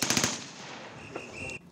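Blank rounds fired in rapid bursts during a military battlefield simulation, a loud quick volley at the start followed by a ringing, echoing decay in open air.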